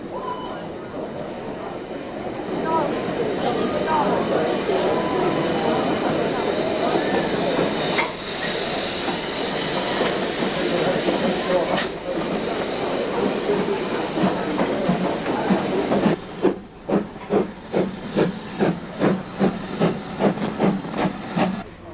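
A preserved locomotive runs along a line through the Maidstone area near East Farleigh, its steady rumble and hiss building and holding, then giving way to a quick run of rhythmic clickety-clack beats as carriages pass close by.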